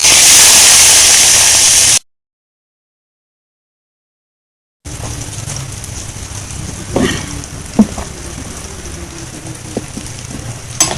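Hot oil sizzles for a dal tadka on a wood-fired chulha, a loud dense hiss that cuts off, then returns as a quieter steady crackle with a few close pops and clinks.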